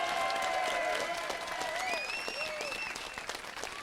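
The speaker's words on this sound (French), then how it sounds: "Nous entendons les applaudissements ici jusqu'au carrefour" An outdoor crowd at a village gathering in Montret applauds, a dense steady clapping that fades gradually, with a few short whistle-like tones rising over it.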